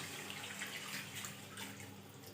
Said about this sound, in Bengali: এবার গ্রেভির জন্য জল দিয়ে দেব